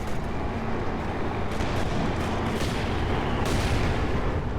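Panzerfaust anti-tank shot in Company of Heroes 2, set on a winter street beside ice, lost in a continuous wash of loud battle noise with dull booms and gunfire rumbling throughout.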